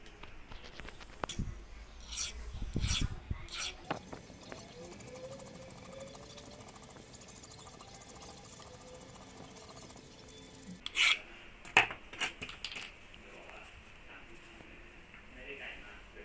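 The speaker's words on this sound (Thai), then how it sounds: "วิธีแก้เราก็จะ ง่ายๆเหลา ตะไบ ทำการเหลาให้ริมมันเสมอนะครับ" A metal file rasps along the edge of a car key in a repair setting, sounding as a steady run of close scraping strokes through the middle of the clip, with a few louder knocks and handling clatter near the start and end.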